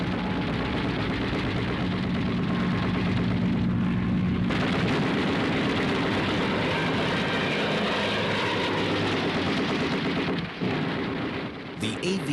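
A P-40 Warhawk fighter's engine drones loudly and continuously in flight, a dense roaring wash with a slight shift in tone partway through.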